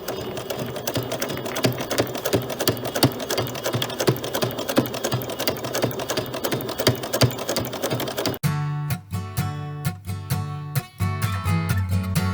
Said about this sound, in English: And I'm just going to sew it.